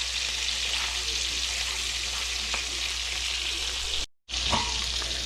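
Trout sizzles and fries steadily in a pan, a continuous bright crackle with a brief drop to silence near the end, no talk.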